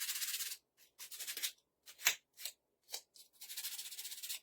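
A craft star is sanded by hand, a dry scratchy rasp coming in short strokes of varying length with brief pauses, close and fairly quiet.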